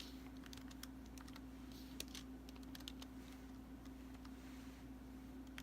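Fingers type a name on a computer keyboard, producing quiet, irregular clicking keystrokes over a steady electrical hum.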